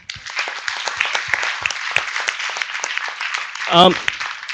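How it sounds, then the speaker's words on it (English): Applause from a conference audience at the AprIGF forum, a steady dense patter of clapping through the whole stretch with a brief whistle or cheer near the end. "Please give a round of applause again"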